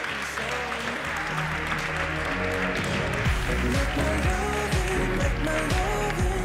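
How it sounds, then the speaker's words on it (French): Audience applause filling a French conference hall after a round-table session, broad and sustained throughout, with music starting up underneath partway through. "on peut encore une fois les applaudir"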